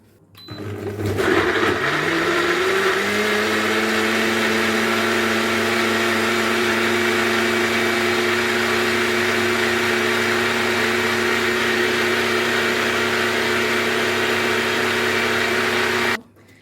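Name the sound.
blender blending cut ingredients for a drink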